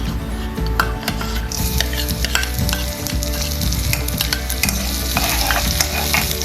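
Minced garlic hits hot oil in a wok, giving a steady, loud sizzle and frying hiss with occasional clinks of a spatula against the pan, continuous throughout with no talking.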